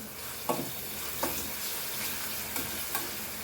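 Potato skins fry in hot oil with a steady, even sizzle, punctuated by several soft stirring scrapes spaced through the span, close and moderately quiet.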